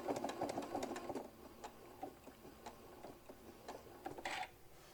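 A sewing machine backstitches over a seam while making a hobo bag, giving quick bursts of close, rhythmic mechanical stitching with short pauses between runs.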